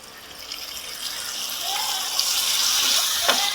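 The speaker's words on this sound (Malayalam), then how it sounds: "ഇനി ഇതിലേക്ക് ഞാൻ ചേർക്കുന്നത് പുളിവെള്ളമാണ്." Soda-free tamarind water, squeezed from soaked tamarind, is poured into a simmering green chilli curry (Mulakai Mandi), a gushing, splashing liquid stream that grows fuller and louder as it goes.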